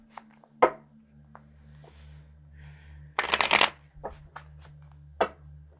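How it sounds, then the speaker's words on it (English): A deck of tarot cards is shuffled close by, with soft taps and handling sounds, then a quick, loud riffling burst and a few more sharp card clicks over faint hum. "Shuffle it one more time."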